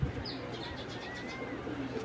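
Soft, repeated cooing from an old native-breed pigeon, fairly faint over a steady hum of background noise.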